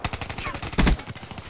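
Pistol fire in Black Ops 3 multiplayer, a quick run of sharp, closely spaced shots with one louder burst in the middle, set against constant game noise.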